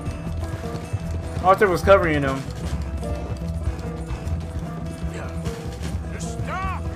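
Horse hooves gallop in Red Dead Redemption 2, a steady clip-clop rhythm at moderate loudness that runs under ongoing talk, with brief horse-like squeals partway through.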